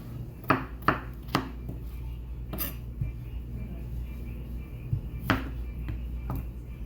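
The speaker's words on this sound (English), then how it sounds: "Almost finished with cutting our potatoes." Knife chopping potatoes into medium cubes on a cutting board, sharp close thunks in a loose irregular rhythm: a quick cluster of three, then scattered single cuts over a steady low hum.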